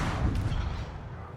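A 120 millimeter tank gun firing aboard the Leone in a naval video game, heard as a short deep booming blast that fades quickly into low rumble.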